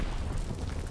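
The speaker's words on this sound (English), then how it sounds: "Popping Fritz X bomb." Fritz X glide bomb detonating in Call of Duty: WWII, a dense, sustained low rumbling blast that fills the whole moment with heavy, steady boom and no talk over it.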